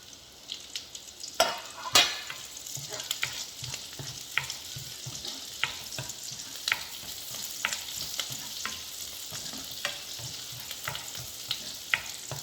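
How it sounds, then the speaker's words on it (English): Finely chopped chilies frying in hot oil with golden garlic, a steady close sizzle with scattered stirring scrapes and sharp spatula clinks throughout. "after the garlic turns a little golden in color, put these finely chopped chilies"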